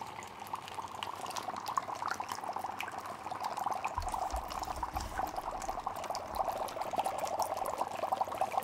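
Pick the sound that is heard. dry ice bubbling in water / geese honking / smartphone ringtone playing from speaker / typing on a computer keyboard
dry ice bubbling in water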